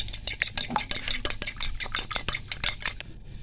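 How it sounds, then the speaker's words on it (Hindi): Eggs being beaten in a bowl for chicken shami kababs: a brisk run of close, rapid clinking whisk or fork strokes against the bowl, steady and alone, stopping abruptly near the end. "अंडे को हम फेंट लेंगे।"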